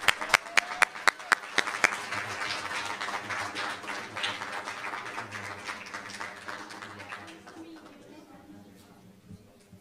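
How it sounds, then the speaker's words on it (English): Round of applause at a school board meeting, sharp claps at first swelling into dense, sustained clapping that gradually fades toward the end. "And one more round of applause"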